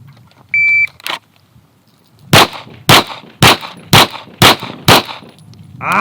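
Six sharp pistol shots crack in quick, evenly spaced succession during a timed lateral Bill Drill, preceded by a short electronic start beep from the shot timer and a metallic clang.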